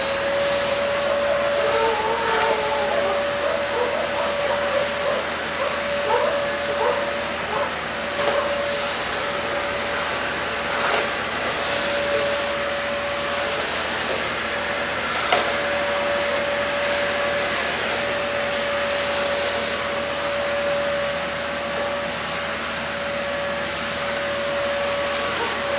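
A Deerma vacuum cleaner runs on a mat with a loud, steady motor drone and airy suction whine, holding an even level throughout with only small fluctuations.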